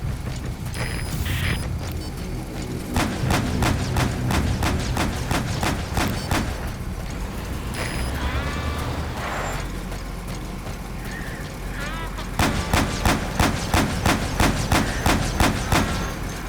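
Gunfire and artillery in Metal Gear Solid V: The Phantom Pain, heard as loud, rapid bursts of repeated shots in two long volleys over a dense, rumbling battle din, with whirring machinery in between.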